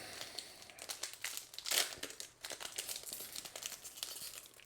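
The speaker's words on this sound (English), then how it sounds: "I'm going to open up some packs" A Flesh and Blood trading card booster pack is torn open, with close, crisp foil crinkling and a sharp rip midway, followed by continued rustling and crackling of the wrapper.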